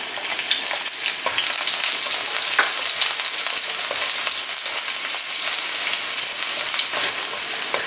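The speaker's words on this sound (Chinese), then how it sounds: "油微热的时候呢加入我们准备好的这个蒜片" Garlic slices fry in lightly heated oil in a wok at the start of a chili pepper and shredded tofu stir-fry, giving a steady, bright crackling sizzle with scattered pops and nothing else over it.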